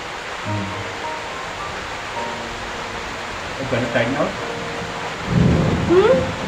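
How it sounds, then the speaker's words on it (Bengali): Heavy rain roars steadily during a thunderstorm, with low rumbling swells, while people talk over the downpour. "বৃষ্টি সারানো কোনো কথাই নেই, আজকে সারাদিন চলবে।"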